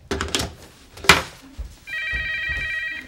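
A telephone rings with a steady electronic trill after a few knocks and thuds, the ringing loud and close and continuing to the end.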